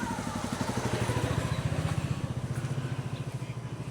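A motorbike rides through a narrow, trash-strewn shortcut alley between neighbourhoods in Angeles City, its engine putting out a steady loud rhythmic putter that stays close throughout and then eases off slightly.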